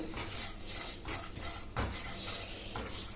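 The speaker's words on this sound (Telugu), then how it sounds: "ఇది కూడా కాస్త కలర్ మారే వరకు వేయించుకొని పెట్టుకోవాలి" Vermicelli roasting in ghee in a kadai gives a close, dense rustle with clinks and scrapes of a spoon against the metal pan over a few seconds, with no voices.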